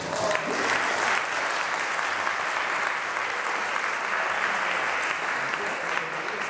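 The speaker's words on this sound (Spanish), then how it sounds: "Bueno, aplaudamos a Carlos de Andrés" An audience at a panel talk on media censorship breaks into sustained applause, dense clapping filling the room at an even level for several seconds.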